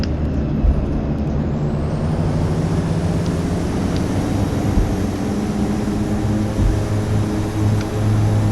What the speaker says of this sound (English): again, reverse thrust